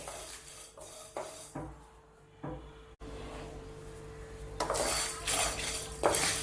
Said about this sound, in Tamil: இப்போ இதை வறுத்துக்கலாம். எண்ணெய் சேர்க்காமல் வறுத்துக்கோங்க.